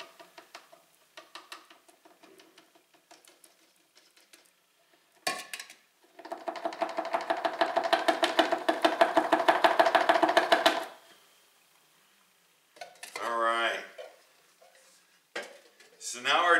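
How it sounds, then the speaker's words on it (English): Dehydrated peanut butter powder is poured into a jug for peanut butter mead, a sustained dry rustling pour of about five seconds, preceded by light clinks of utensils and followed by a brief scraping shake. "I'm going to put my powdered peanut butter inside the jug as well."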